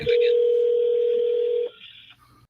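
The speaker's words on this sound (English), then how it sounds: "I'm hearing ringing. Is that my ringing?" On an outbound telephone cold call, a single loud, steady ringing tone sounds for about a second and a half and then cuts off, leaving faint line noise.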